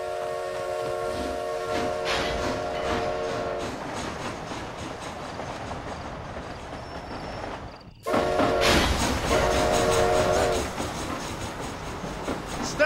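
Steady rumble and clatter of a train running in Red Dead Redemption Undead Nightmare, heard alone at fairly loud level, with a sharp break near the middle before the rolling noise resumes louder with tonal hum.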